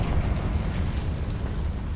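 A Confringo blasting spell explodes in Hogwarts Legacy, heard as a dense, sustained low rumble that stays steady and loud for the whole stretch, with no clear separate blasts and no talking.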